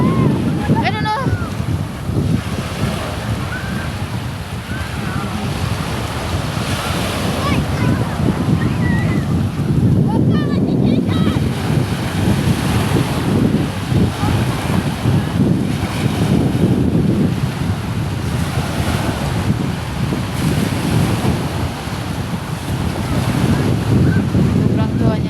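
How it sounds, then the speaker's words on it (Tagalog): Sea waves at a beach roll in a continuous loud wash of surf mixed with heavy wind buffeting the microphone, sustained throughout with faint voices in the background. "Nandito kami sa dagat."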